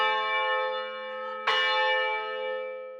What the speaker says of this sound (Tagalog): kapag umalingaw-ngaw na ang mga kampana mula sa kampanaryo nito